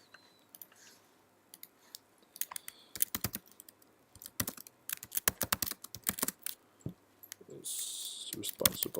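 Typing on a computer keyboard comes in irregular bursts of sharp clicks, close and fairly quiet, with pauses between runs of keystrokes and a denser patch of clatter near the end.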